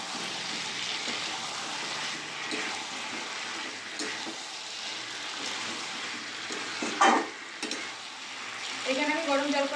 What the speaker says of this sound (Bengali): আর কিছুক্ষণ নেড়ে নেবো।